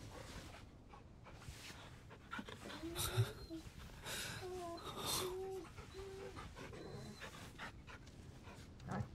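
A dog panting and whimpering as it is cuddled in the video game Final Fantasy XVI, soft breathy panting mixed with game ambience and occasional character talk, moderately quiet throughout.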